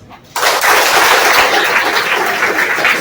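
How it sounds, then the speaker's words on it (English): A lecture-hall audience at an engineering college event claps together after a brief quiet start, the burst of applause rising sharply and holding loud and steady to the end. "All of you clap once."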